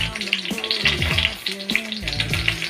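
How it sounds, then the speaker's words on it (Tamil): Bay leaf and cinnamon crackling and sizzling in hot oil, a steady busy sputter with scattered sharp pops, heard up close. "பிரியாணி இலை மற்றும் பட்டை வகைகள் சும்மா டாப்னு வெடிக்குது"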